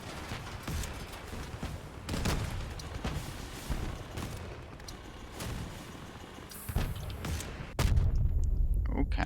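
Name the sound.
cannon fire in the video game Crossout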